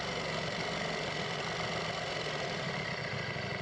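A Ducati Panigale V4S motorcycle engine idles roughly and close by, a steady, loud, throbbing rumble that holds without a break.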